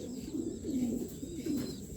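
Soft, low cooing of an old racing pigeon hen repeats a few times, close by, over a faint steady background hum.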